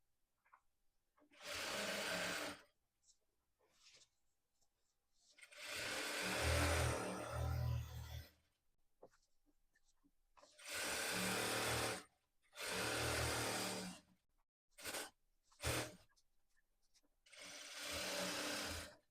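A sewing machine stitches a khadi salwar in repeated bursts of running, each lasting a second or two up to a few seconds, separated by pauses and a few quick short runs, heard close and alone.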